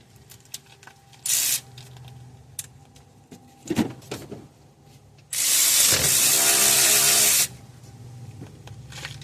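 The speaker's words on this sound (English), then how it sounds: "So first we're gonna remove these 2 bolts. These are the 14 millimeter." Brake caliper bolts, 14 mm, being removed from the rear brakes of a 2016 Subaru Forester: bursts of loud hissing spray-like tool noise, one short and one long of about two seconds, with clinks and ratcheting clicks between them, no talk.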